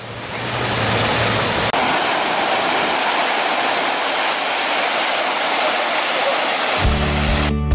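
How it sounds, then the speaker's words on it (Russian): A powerful fountain jet holding a large stone aloft in a Batumi park gives a steady, dense rush of falling and splashing water, loud and close throughout, with a faint tone at the start and a clatter near the end. "Я такого еще не видел, чтобы напор воды держал такой камень."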